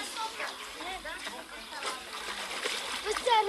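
Children splash and play in a village stream on a hot day in Egypt, with continuous bright splashing and sloshing water close by, mixed with voices.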